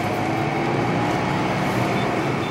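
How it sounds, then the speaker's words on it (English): A Datsun redi-GO 1-litre engine drones steadily inside the small car's cabin, a constant loud low hum and road rumble with no break or change. "Sadly, there's a bit of engine noise that creeps into the cabin."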